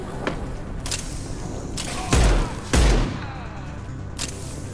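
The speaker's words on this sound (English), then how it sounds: "Firing now." Gunfire in the shooter Mass Effect 2, several sharp bursts of shots with two heavier, louder booming blasts in the middle, set against steady game ambience.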